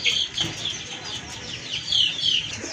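Pigeons offered for sale, some with eggs and chicks, coo and rustle nearby in soft, uneven calls over a quiet background.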